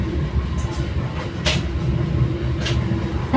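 An Indonesian commuter train rolls at Ciroyom station, with a steady low rumble and hum throughout, plus a few brief hissing or clanking bursts.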